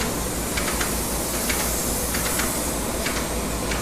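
A spray gun applies finish coats to stained wood cabinet parts in a cabinet shop, producing a loud, continuous hiss with short rhythmic bursts and no voices.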